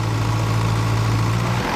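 A machine's engine idling with hydraulics engaged, a loud, steady low rumble and hum holding constant before cutting off abruptly near the end, no voices.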